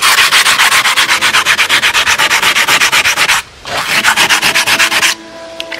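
Coarse sandpaper rubbed back and forth over a red brick, a steady run of rapid rasping strokes, close and loud, with a short pause before the scraping resumes and then stops.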